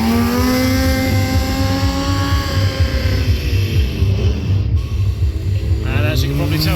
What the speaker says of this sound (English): We're just going to get these bikes warmed up a little bit,